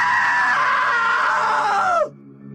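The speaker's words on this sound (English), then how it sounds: "Now that was a great scream." A woman's long, piercing scream in the video game What Remains of Edith Finch holds loud and strong for about two seconds, then cuts off sharply and leaves a low, quiet hum.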